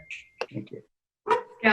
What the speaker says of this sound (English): excuse my barking dog